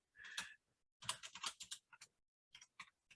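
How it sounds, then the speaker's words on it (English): Bursts of rapid key clicks on a computer keyboard, close and fairly quiet, come in short runs separated by brief pauses. "so much typing."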